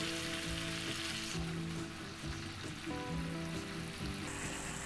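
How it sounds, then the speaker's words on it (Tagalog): A hotdog sizzles in a pan after about a quarter cup of water is added, a steady hissing, bubbling crackle that holds evenly throughout. "Lagay lang tayo kahit mga 1/4 cup lang ng water."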